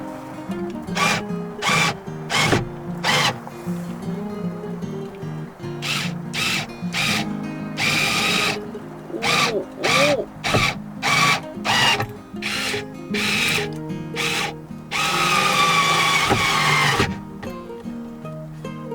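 A power drill whirs in repeated short bursts, drilling holes into a vehicle's ceiling through a wooden board, stopping and starting many times, with a couple of longer, harder drilling runs near the end.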